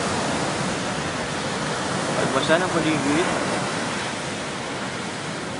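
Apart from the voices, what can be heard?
ocean waves at Bolinao shore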